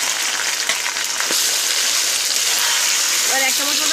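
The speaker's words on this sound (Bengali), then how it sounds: "আর পেঁয়াজটা লাল লাল করে ভেজে নেব।" Onions frying in a pan for a taro dish, a loud, continuous close-up hiss of hot oil, with a faint voice near the end.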